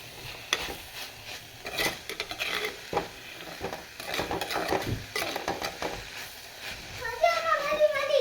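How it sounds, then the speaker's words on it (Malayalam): Mushroom theeyal is stirred in a pan with soft scraping and a light sizzle, faint and close, while a voice talks over part of it. "നല്ലപോലെ ഇളക്കി കൊടുക്കാം"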